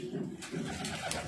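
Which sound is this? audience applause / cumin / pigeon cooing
pigeon cooing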